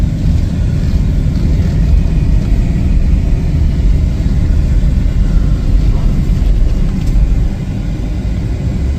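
A 2018 Chevrolet City Express LT cargo van on a test drive, with a steady loud low rumble of engine and road noise throughout that eases slightly near the end.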